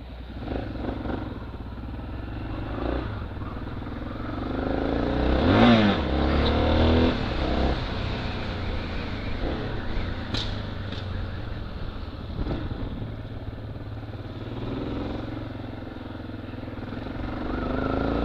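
Yamaha Ténéré motorcycle riding along a road in cold weather, its engine a steady close drone with wind rush, rising briefly in revs midway, no voices over it.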